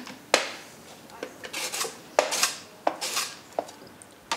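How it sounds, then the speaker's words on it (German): Washed fermented beets being finely sliced on a kitchen slicer, giving a series of sharp scraping strokes with short clattering bursts in an irregular rhythm, close and fairly quiet. "Sie werden dazu gründlich gewaschen und anschließend fein gehobelt."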